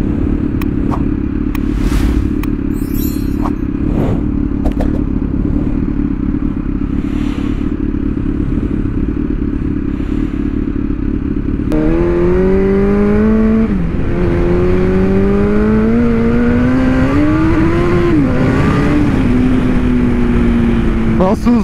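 A newly bought motorcycle that needs a carburettor sync drones steadily under constant wind rush while being ridden, with the engine note then rising and falling through gear changes, loud and close.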